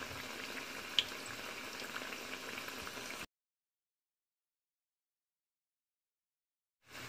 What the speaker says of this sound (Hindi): प्याज के तमाम पकौड़े हमारे फ्राई हो गए हैं।